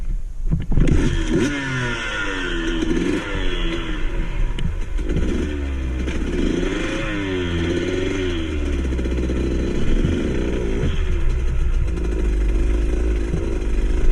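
Motorcycle engine on a training ride revving repeatedly in rising and falling bursts, loud and close, with steady engine noise between throttle blips and no talking.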